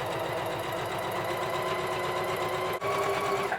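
A sewing machine runs steadily, stitching the seams of a cushion cover with a fast, even mechanical chatter that stays close and loud, broken only by a very brief pause near the end.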